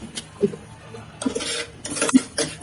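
Sugar and milk powder are stirred in a pan, with a spoon scraping and clinking against the metal in a few irregular strokes, close and clear with no talking.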